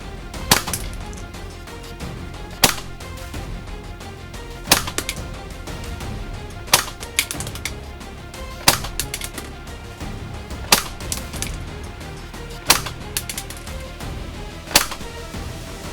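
A WE-TECH P90 gas blowback airsoft gun fires single sharp cracks at roughly two-second intervals, each shot crisp and close with a brief mechanical clatter after it.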